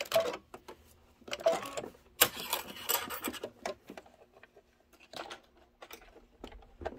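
Sewing machine stitching quilt pieces with a quarter-inch flanged presser foot, heard as short bursts of mechanical whirring and rapid needle patter separated by pauses, close and moderately loud, with no talking.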